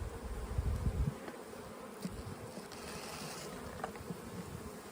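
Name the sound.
honey bees buzzing on hive frames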